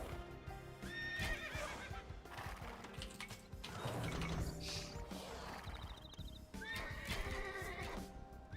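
Horse archers in the video game Age of Empires II, with repeated loud neighs and whinnies over galloping hooves and clanking mechanical game effects, forming a dense, continuous battle soundscape.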